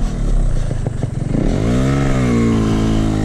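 A Yamaha RX King motorcycle revs hard on a hill trail through savanna, its loud, close two-stroke engine rasping and clattering before settling into a steady, buzzing high rev, with no talk.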